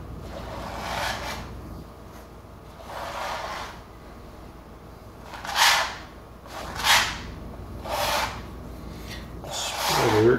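A Bondo spreader is drawn lightly across a canvas surface in slow repeated strokes, a soft close rasping scrape that comes and goes about once a second.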